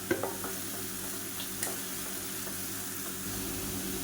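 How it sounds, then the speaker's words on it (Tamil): Mint-coriander paste sautéing in hot oil in a pan, a steady soft sizzle running throughout with a few light stirring clinks near the start, close and moderately quiet, no talking. "எண்ணெய் நல்லா சூடாயிடுச்சு நம்ம அரைச்சி வச்சுருக்க இந்த புதினா கொத்தமல்லி பேஸ்ட்டை சேர்த்துக்கலாம் இப்போ இது பச்சை வாசனை போகிற அளவுக்கு நல்லா வதக்கி விட்டுக்கலாம்"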